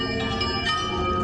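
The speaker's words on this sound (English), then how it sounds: "These are the bells of St. Michael's Golden Dome Monastery on a hill in central Kyiv." Church bells of St. Michael's Golden Dome Monastery on a hill in central Kyiv ring loud and sustained, a dense wash of overlapping tones with no pause.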